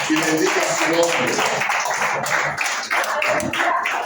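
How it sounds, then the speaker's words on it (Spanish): A church congregation claps and applauds steadily for several seconds, a dense, close wash of hand claps with some voices mixed in. "Y a meter un fuerte aplauso al Señor"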